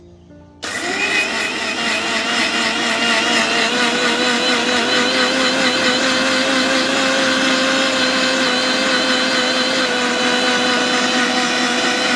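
A mixer grinder whirs loudly as it grinds soaked lentils with water into idli batter, starting abruptly after a brief quiet and then holding a steady, close motor drone throughout, with no speech.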